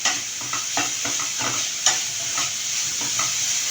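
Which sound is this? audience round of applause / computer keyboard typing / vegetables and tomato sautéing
vegetables and tomato sautéing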